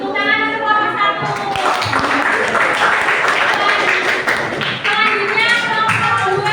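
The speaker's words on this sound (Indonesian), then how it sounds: "Tepuk tangan untuk kelompok 1." Group applause for the first team at a vocational school session, dense clapping and tapping throughout with overlapping chatter and voices in a classroom-like room, fairly loud and steady.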